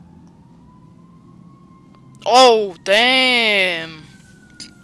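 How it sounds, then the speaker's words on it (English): Police sirens outside in Batman: The Telltale Series game make a faint, steady wail, briefly drowned out by a man's loud exclamation. "I can hear the sirens."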